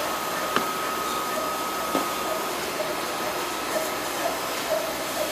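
Hot air welder tack-welding PVC roofing membrane, giving a steady, close blowing hiss with a faint constant whine, plus a few soft taps and knocks.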